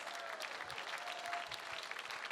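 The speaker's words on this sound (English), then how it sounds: "Can we have our hardworking board of directors raise your hands and wave so we can give you a round of applause?" A crowd at a gala claps in a steady, dense round of applause that fills the whole stretch, moderately distant.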